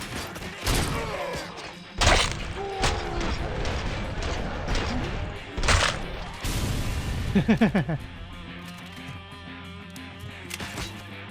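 Enemy gunfire in Robocop: Rogue City, sharp bursts and impacts scattered among metallic clanks, crashes and mechanical noise, loud and close with a rapid rattling volley near the end, while a voice talks intermittently.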